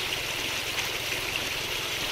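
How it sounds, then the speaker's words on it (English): Water rushes steadily over a gold sluice, a continuous close hiss and gurgle with no pauses or voices. "I still think I might have too much volume of water going over to the speed I've got, or to the size of the sluice"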